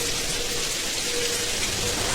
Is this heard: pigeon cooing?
no